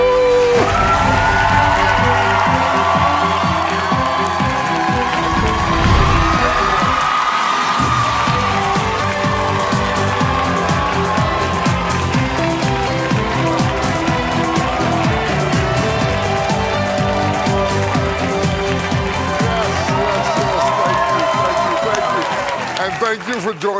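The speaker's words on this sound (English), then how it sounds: "Look at who's cheering for you." A crowd cheers and whoops continuously at a church gathering, a dense roar of voices and claps under loud talk throughout.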